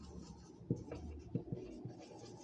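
Pen or chalk writing out a math equation, a few soft taps and scratchy strokes at an irregular rhythm, quiet and close in an otherwise hushed room.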